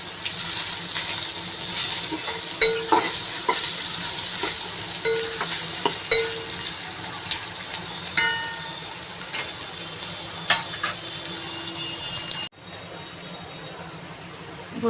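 Grated ginger sizzles softly in a pan for Bengali yakhni pulao, with steady frying and occasional stirring clicks and scrapes, plus a brief tap of running water near the end.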